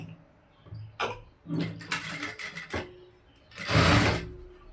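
A sewing machine runs in a few short bursts while stitching a cross belt for a blouse, with a longer whirring run near the end and quiet handling sounds between, close up with no talking.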